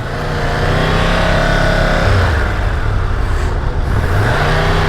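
A 2023 Triumph Tiger 1200 GT motorcycle engine running close and loud, with a continuous drone whose pitch dips and rises as the revs shift, under wind noise.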